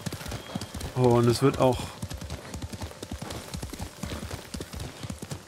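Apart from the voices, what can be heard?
horse hooves while riding in video game Ghost of Tsushima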